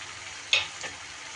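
Spice paste frying in oil in a pan for a potato dish, a soft steady sizzle with a couple of brief stirring scrapes, close and fairly quiet, no talk.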